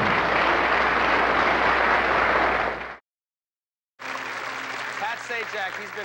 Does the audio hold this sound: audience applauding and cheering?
yes